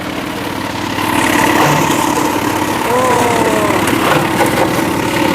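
A noisy plastic bottle processing machine runs with a steady mechanical drone and rattling at a Betawi celebration, loud and continuous with background voices and music around it.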